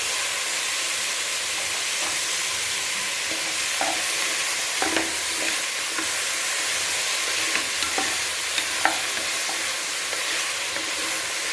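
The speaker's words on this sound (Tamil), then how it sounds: "கிண்டிகிட்டே இருக்கு. அடி பிடிக்காம கிண்டிகிட்டே இருக்கு." A pot of sambar rice (bisibelebath) with tomatoes is stirred over the stove, a constant hissing sizzle with occasional scraping clicks from the spoon against the pot bottom, close and even, no voices.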